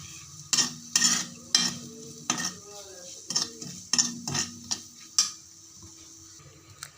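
Onions and bitter gourd fry in a pan while a spoon stirs them, with a row of sharp metal scrapes and clinks over a low, steady sizzle. No voices are heard.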